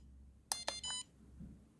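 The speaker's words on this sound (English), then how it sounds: "hopefully you can hear that beeping tone there. That's reminding me, or reminding you, that the device is armed, but it's still locked." An electronic beeping tone from a fixed-wing drone's motion controller, armed but locked, sounds as three short, clear beeps in quick succession, the last slightly longer, alone against quiet room background.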